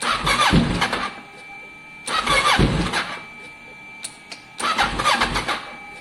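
A Kawasaki ER6n motorcycle engine, a salvaged wreck, is cranked in three separate bursts, each catching briefly into a rough, uneven run before cutting out, with a couple of faint clicks between attempts.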